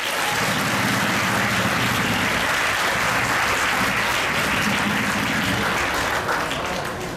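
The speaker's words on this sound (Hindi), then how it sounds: "उनके लिए एक ज़ोरदार तालियां हो जाए।" Loud, sustained applause from an audience at a charity event for free SSC exam coaching for school students, a dense clapping wash that fills the whole stretch without a break.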